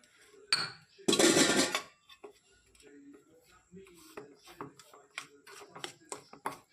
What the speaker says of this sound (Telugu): కొంచెం కొంచెం కలుపుకుంటున్నాను